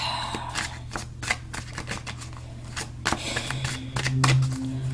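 Tarot cards riffle and snap in quick bursts, a few shuffles in a row close to the mic, with a low steady hum underneath.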